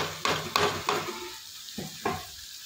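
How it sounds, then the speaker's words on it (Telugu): Tomatoes dropped into a pan of frying brinjal curry, giving a few short, close sizzling bursts and stirring scrapes that fade into quieter gaps, with no talking. "ఇప్పుడు టమాటాలు వేసుకోవాలి మనం"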